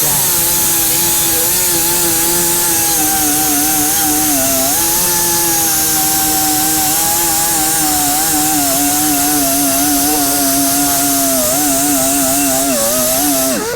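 A sanding disc grinds on the flange of a shortened metal 409 valve cover, producing a loud, continuous whining tone that wavers slightly as the pressure shifts, close and unbroken.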